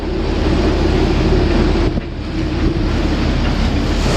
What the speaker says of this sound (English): For some reason the wind is picking up.